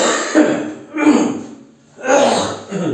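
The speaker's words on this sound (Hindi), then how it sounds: "खांसी हो गई," Three harsh, rasping coughs in a row, loud and close, separated by brief pauses.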